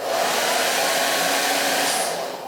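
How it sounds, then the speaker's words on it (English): A hair dryer runs as a load on a smart plug with a screen, giving a loud steady airy whoosh for about two seconds before it cuts off abruptly. "turn on the hair dryer"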